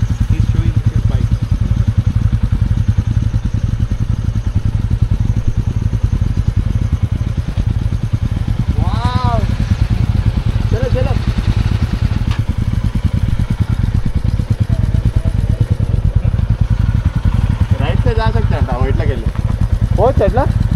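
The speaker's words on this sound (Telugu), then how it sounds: "ఫారెస్ట్లోకి ఇట్లా బైక్." A motorcycle rides off-road into a forest near Narsapur, its engine droning steadily and loudly the whole time while people talk over the noise.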